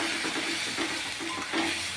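Mutton sizzles steadily in a hot pan as turmeric powder goes in, a dense continuous frying hiss with faint stirring scrapes and no talking.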